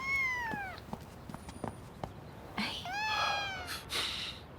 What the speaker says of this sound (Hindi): आपने कभी बिल्ली नहीं उठाई?